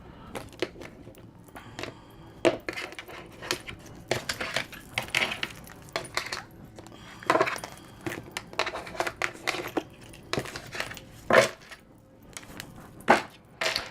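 A deck of tarot cards being cut and shuffled during a reading, giving irregular crisp riffles, taps and slides of card stock at close range with short pauses between bursts, and no talking.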